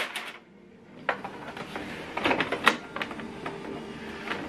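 The ink cover of a Canon TR4650 printer is closed, giving a few light plastic clicks and a soft thud amid quiet handling noise, close by with no talking.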